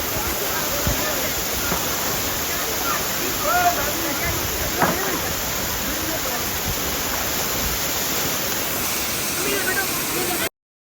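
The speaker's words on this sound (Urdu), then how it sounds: "صرف آبشار کی گونج تھی، ٹھنڈی ہوا تھی" Menthoka waterfall near Skardu roars as a steady, dense broadband rush of falling water, constant and loud throughout with no voices, ending abruptly.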